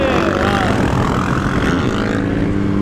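A KTM 450 SXF four-stroke dirt bike engine drones loudly and steadily close by, a continuous rough mechanical roar with a slight pitch rise and fall.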